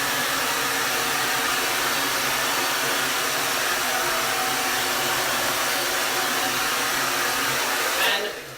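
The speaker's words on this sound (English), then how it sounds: "blow dry, rough dry it like that without your nozzle" A hair dryer running without its nozzle to rough dry curly hair, a loud steady airflow roar that holds for about eight seconds before cutting off near the end.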